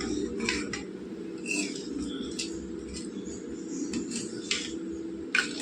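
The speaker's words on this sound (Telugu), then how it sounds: "బాగా కలుపుకుందాం." A spoon clinks and scrapes against a pot of fish pulusu (curry) while it is mixed after water is added, with a steady simmering hiss underneath and a few sharper metallic knocks near the end.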